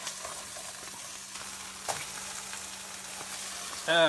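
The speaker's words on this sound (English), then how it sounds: "carefully flip your patties to make sure that they don't fall apart" Turkey queso burger patties frying in a pan, a steady close sizzle with a few scraping clicks as they are flipped and a brief louder rustle at the end.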